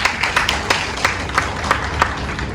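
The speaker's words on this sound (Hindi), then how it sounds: "तो जोरदार तालियों से उनका स्वागत करें" At a women's day felicitation event in the islands, a small audience gives a moderate round of clapping to welcome the municipal chairperson, with distinct individual claps in a loose, fairly steady rhythm.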